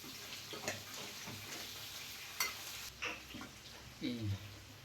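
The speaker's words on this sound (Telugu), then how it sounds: "ఆనియన్ వేసుకోవాలి. వేసుకున్న తర్వాత కలిపేసుకున్నాం ఒకసారి." Onion frying in a pan with chicken and tamarind is stirred, giving a soft, low sizzle broken by several scraping and clacking spoon strokes.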